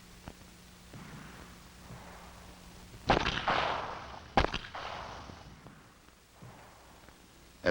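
A gunshot fired by a shooter from a crouch with the point shoulder position, arm used as a pointer: one sharp loud crack standing out from a quiet outdoor background, followed moments later by a second shorter report.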